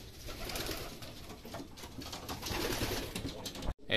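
Racing pigeons at a loft coo softly and continuously at close range over a noisy, busy background, with a brief dropout near the end.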